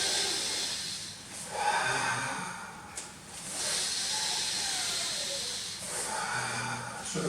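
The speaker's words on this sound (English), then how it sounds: "Breathing in, elbows in, it's pushing up, breathing out" Exaggerated breathing during a martial arts exercise: slow, loud, hissing inhales and exhales close up, rising and falling in long waves with short pauses between breaths.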